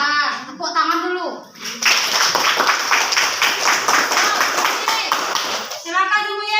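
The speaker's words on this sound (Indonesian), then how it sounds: "Nah, tepuk tangan dulu." Students in a classroom clap together in a quick, lively burst of several seconds, framed by children's voices talking just before and after.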